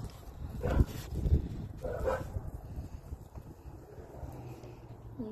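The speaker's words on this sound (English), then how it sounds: "You pretty little puppy." A small puppy whimpers and yips in a few short, close bursts near the start, then quieter stretches with faint low rustling.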